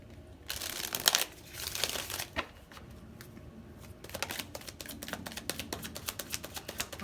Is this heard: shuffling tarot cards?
yes